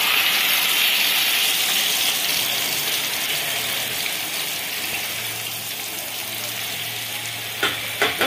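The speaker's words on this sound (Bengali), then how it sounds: "কড়াইতে আমি তেল আর ঘি মিক্সচার নিয়ে নিয়েছি তার মধ্যে আমি দিয়ে দিলাম চিকেনটা" Chicken pieces frying in a mix of oil and ghee in a wok give a steady, close, loud sizzle that runs without a break, and a few sharp clinks come near the end.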